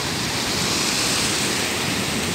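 Broadband surf noise from ocean waves at Praia da Tiririca beach in Bahia, a steady loud wash with no distinct breaks, no voices.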